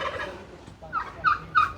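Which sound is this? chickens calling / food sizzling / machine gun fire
chickens calling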